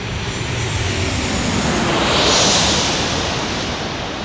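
A Delta Airlines plane at San Diego airport roars loud and near, its broadband engine noise swelling briefly at the midpoint as it passes.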